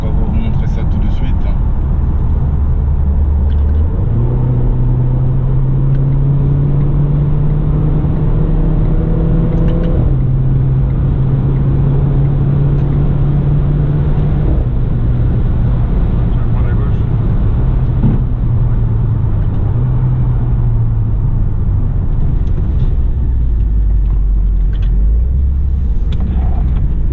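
A sports car switched into RS Drive race mode accelerates hard, its engine note climbing through gears with shifts and rising pitch, loud and close, while someone talks over it in French.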